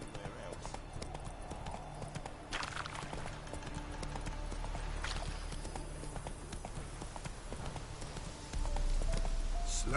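Roach, Geralt's horse in The Witcher 3: Wild Hunt, trots along with steady rhythmic hoof clip-clops, moderately close. A voice talks over the hooves, and background game music plays throughout.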